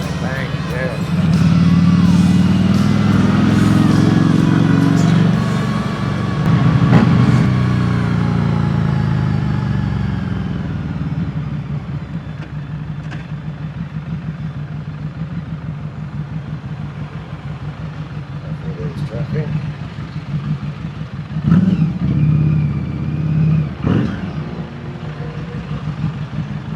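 Road traffic at a Church Street exit, car and motorcycle engines rumbling and idling nearby in a steady low drone that swells loudly early on then settles, with someone talking over it.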